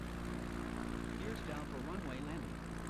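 An aircraft engine drones steadily while coming in to land in a flight simulator video game, a soft, even propeller hum with a few faint tonal sweeps; someone talks over it.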